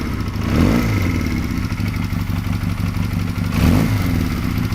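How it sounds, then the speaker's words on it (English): A 2014 AJS NAC 125cc motorcycle engine running after start-up, a close, steady mid-pitched buzz with a light mechanical clatter and two brief rises in revs, with no talk. "What's it like when it starts up? It's still got that beautiful sound."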